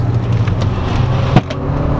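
A Kia Rio driving along a road, with a steady low engine and road hum from inside or near the car, a brief thump partway through, no talking.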